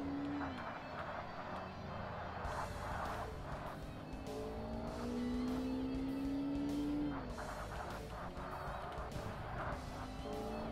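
A video game race car engine in Forza Motorsport whines and rises in pitch with gear changes, tires squealing now and then, steady and fairly loud.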